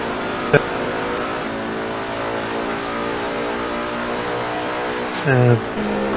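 Touring car engines droning steadily in an rFactor sim race at Snetterton, two cars running side by side through a long right-hander, with a sustained harmonic whine, a brief click and a rising rev near the end.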